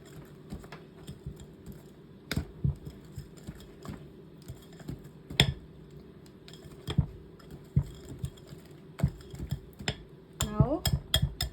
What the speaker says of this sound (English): Now when you are mixing the flour batter, you have to put some air, so I'm just folding the